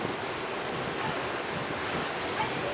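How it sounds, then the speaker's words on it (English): Ocean surf at Mahogany Bay Beach on Roatan, Honduras, heard as a steady broadband wash of waves with wind buffeting the microphone, continuous and fairly loud with no voices. "Over here, that's the beach."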